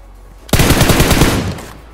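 A burst of rapid automatic gunfire in the PUBG mobile video game, played on an iPhone 12 Pro Max. The shots are loud and close, cracking in a fast steady stream for about a second before tailing off.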